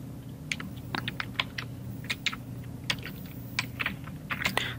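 Fingers tap out text on a computer keyboard while designing in Illustrator, giving quick irregular clicks in short bursts over a steady low hum of the room.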